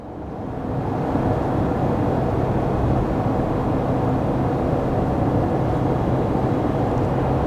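A RAM 1500 with the 3.0L EcoDiesel, towing a maximum load up a steep grade in 4th gear at about 55 mph, gives a constant broadband road-and-engine drone heard from inside, swelling in over the first second and then holding steady.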